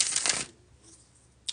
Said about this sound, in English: All right, there is the bridge shuffle.